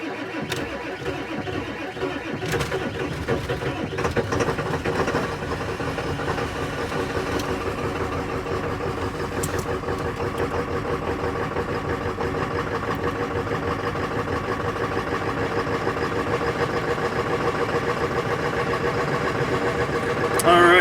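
A diesel school bus engine turns over and catches, then idles roughly for about twenty seconds, a steady loud rumble that sounds like it is not firing on all cylinders.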